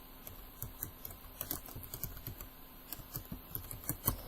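Rapid typing on a computer keyboard, a steady patter of close, quiet key clicks with a few louder strokes and no voice.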